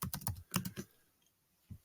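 Quick bursts of keystrokes on a computer keyboard, close and fairly soft, a short flurry of taps followed by a pause and one last press.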